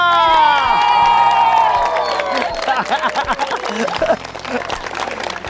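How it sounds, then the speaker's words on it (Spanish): A crowd in Chaparral, Tolima, Colombia cheers and applauds while someone talks over it, with whoops and shouts under a rolling wash of clapping that thins toward the end. "Un fuerte aplauso para la gente de Colombia."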